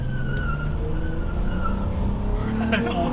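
A Nissan Quest minivan engine hums steadily with road and tire noise as the vehicle moves, a voice talking faintly over it, a brief tire squeal near the end.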